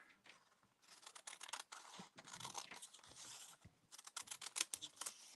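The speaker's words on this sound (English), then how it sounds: "we're going to cut a wave in our paper" Scissors cut a wave shape in paper with quick bursts of crisp snipping and crunching blade strokes, fairly close and quiet, pausing briefly between runs of cuts, no talking.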